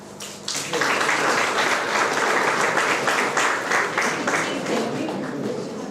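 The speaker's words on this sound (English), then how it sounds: "If the answer is right, I should hear claps." A classroom audience at a tech training talk breaks into loud, sustained clapping after a brief quieter start, the dense applause carrying on for several seconds with some voices mixed in.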